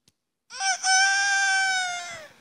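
A human voice imitating a chicken or rooster gives one sustained, high-pitched crowing call lasting nearly two seconds after a brief silence, close and clear with no other sounds.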